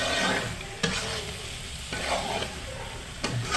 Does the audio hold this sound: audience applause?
no